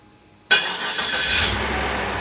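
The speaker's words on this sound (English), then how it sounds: "Let's see if remote start works." A Cadillac's engine fires up by remote start, a sudden loud catch followed by a steady rising idle that settles into a smooth hum, close and alone with no talk.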